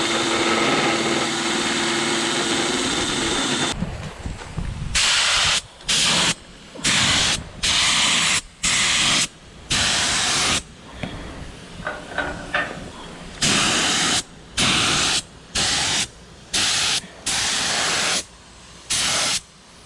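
A paint spray gun coats an old trailer being rebuilt, a loud close hiss starting after a few seconds of hum, then bursting in repeated on-off pulses of about a second each, no speech.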